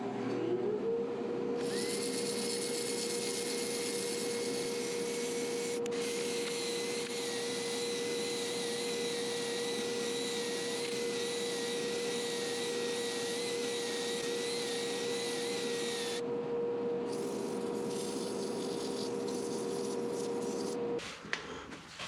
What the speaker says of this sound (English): Sanding from 80 to 400 grit.